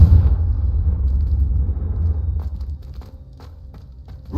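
Deep, rumbling blast of the Confringo blasting curse in Hogwarts Legacy, a heavy low boom fading into a lingering rumble with faint scattered clicks afterward.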